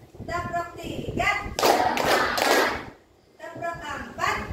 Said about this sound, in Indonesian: Kita tepuk tangan dengan tepuk 1, tepuk 2, tepuk 3.